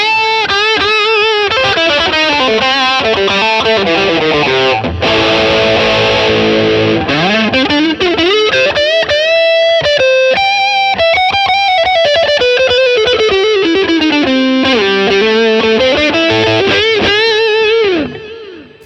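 Electric guitar played through a Line 6 POD Go with the L6 Elmsley amp model and a low-mix delay, distorted sustained lead notes and bends ringing continuously with a subtle trailing echo, loud and close, ending as the notes fade out.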